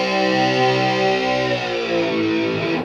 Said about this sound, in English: That goes up in tune with itself. So it goes up as a chord.